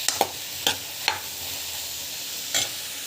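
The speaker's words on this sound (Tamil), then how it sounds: "ஸோ நல்லா வந்து வதக்கிட்டுக்கோங்க. இந்த அளவுக்கு கொஞ்சம் நல்லா வதக்கணும்." Vegetables sautéing with coconut in a pan, with a spatula scraping and tapping about four times over a soft, steady sizzle. No one speaks.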